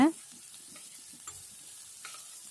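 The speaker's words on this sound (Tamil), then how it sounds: "இப்போ இந்த பூண்டை எண்ணெயில் நல்லா வதக்கி விடுங்க." Crushed garlic sautéing in oil in a pan, a soft, steady sizzle with a few faint stirring scrapes.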